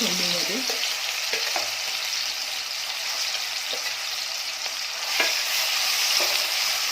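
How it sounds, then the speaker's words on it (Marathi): Crushed onion and garlic, pounded in a mortar, frying in hot oil as a tempering for Pen Raigad-style black mutton, giving a steady loud sizzle with a few soft stirring knocks throughout, no talking. "तेल गरम झालेलं आहे त्याच्यामध्ये कांदा आणि लसण खलबत्त्यामध्ये बारीक केलेला तो घालून घ्यायचा फोडणीला"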